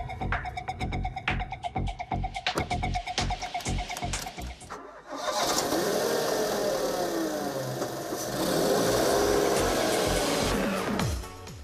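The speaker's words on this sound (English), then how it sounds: "The engine sound certainly isn't going to set a sports car lover's heart racing" A Renault Twingo's rear-mounted 52 kW engine runs at a steady, throbbing idle, then swells into a louder, smoother drone after a burst of sharp clicks and knocks.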